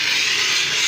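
A De'Longhi coffee machine hisses steadily while purging steam during a descaling cycle, a loud continuous broadband rush with no talking.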